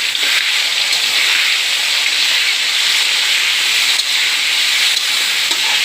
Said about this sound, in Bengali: কড়াইতে তেল গরম করে মাংস ভেজে নিচ্ছি।